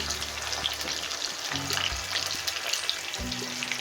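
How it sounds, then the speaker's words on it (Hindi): Fish frying in a pan until golden brown for a fish curry, a steady broadband sizzle with a few low hums and clinks, close and continuous with no talking. "गोल्डन ब्राउन होने तक मछली को पकाएंगे।"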